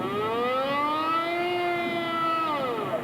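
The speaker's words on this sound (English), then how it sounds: "the air raid siren sounded and the people ran for cover" An air raid siren wails over Sarajevo during the 1995 Bosnian war, a loud, steady rising-and-holding tone that sounds alone and close for the whole stretch before starting to dip at the end.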